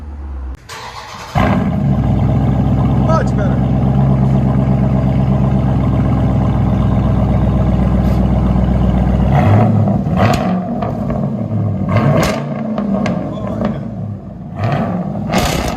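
A Dodge Durango SRT 6.4L HEMI V8 engine revs loudly from inside the cabin, a deep steady roar that rises and falls, with a brief spoken remark near the end.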